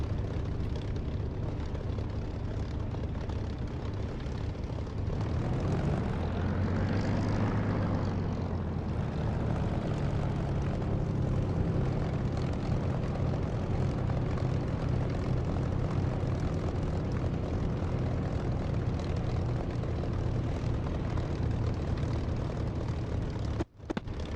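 Aircraft engine from a flight simulator game, the plane flying a circuit; a steady drone throughout, with a rising and falling pitch sweep near the middle as it passes, alone with no talk.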